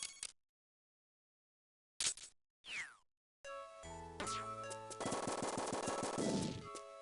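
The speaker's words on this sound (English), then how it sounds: "Pineapple solar gun grenade." Solar gun pineapple grenade weapon in the video game Boktai: a few short bright bursts, then a sustained loud crackling barrage of rapid, regular explosive pops with tonal game sound effects layered underneath.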